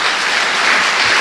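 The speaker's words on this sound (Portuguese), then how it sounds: "Dê uma salva de palmas a Jesus." A congregation bursts into loud, dense applause for Jesus during a sermon, a close, continuous wash of clapping with no voices over it.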